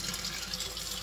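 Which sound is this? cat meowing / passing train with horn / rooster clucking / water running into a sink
water running into a sink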